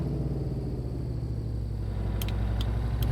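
A truck engine idles with a steady, deep low rumble that fills the whole stretch, inside American Truck Simulator. A few faint clicks come near the end.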